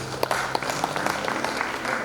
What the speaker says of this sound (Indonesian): tepuk tangan dulu buat Tuhan